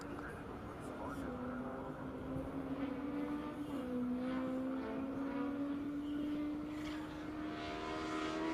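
A time attack race car on a flying lap at Road Atlanta, its engine droning steadily with a rising pitch as it pushes down the straight, heard from a distance under commentary.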